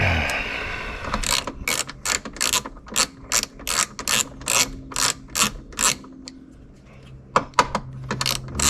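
A hand ratchet working a 10 millimeter bolt loose on a Jeep Wrangler JK, heard as a steady run of close, crisp clicking bursts in a regular back-and-forth rhythm, pausing briefly before a few final clicks, with no talking.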